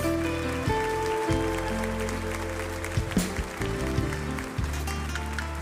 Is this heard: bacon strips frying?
no